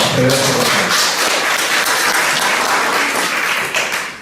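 An audience at a Peruvian literature doctoral colloquium breaks into applause for Tala Matellini, dense clapping with a brief tonal murmur at the start, fading slightly toward the close.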